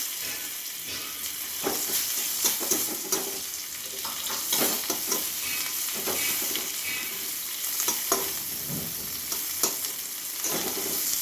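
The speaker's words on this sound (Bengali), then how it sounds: "পেঁয়াজটা একটু ভাজা ভাজা হয়ে গেলে তারপর অন্য মশলা দেবো আমি।" Onions sizzle and crackle in hot oil with panch phoron spices, with occasional scraping and stirring sounds from a spatula in the pan.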